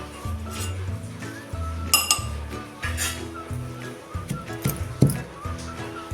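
Coriander and chillies pounded in a mortar for spicy Maharashtrian garlic thecha, with repeated clinking, knocking strikes near and moderately loud, irregular in rhythm across the whole stretch.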